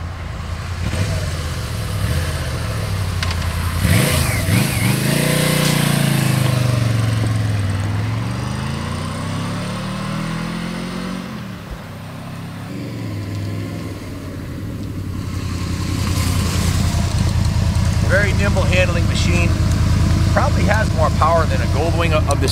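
A 1983 Yamaha Venture Royale XVZ12D motorcycle with its V-Max-derived V4 engine runs loud and close, rising and falling in pitch through several revs before settling into a steady idle, with a voice heard over it.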